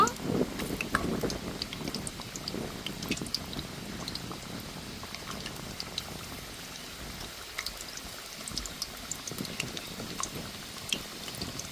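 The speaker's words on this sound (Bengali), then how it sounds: "হালকা জাল দিয়ে আমি ভালো করে মুচমুচে করে ভেজে নেব।" Stuffed crispy snacks frying in hot oil over low heat, a faint continuous bubbling hiss with scattered small pops throughout, a bit fuller at the start and thinning as it goes, with a voice talking underneath.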